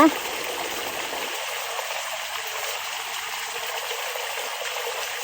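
Continuous rushing of flowing water, a steady broadband wash that stays even and unbroken, with no speech over it.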